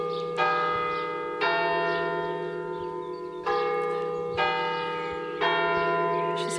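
Church bells ring outside with slow, regular strikes about once a second, each ringing tone overlapping the last and sustaining between hits, with no talk.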